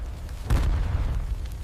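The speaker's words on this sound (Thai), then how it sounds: "เสียงระเบิดดังสนั่นหวั่นไหว" A deep explosion booms once, followed by a lingering low rumble that fills the rest of the moment.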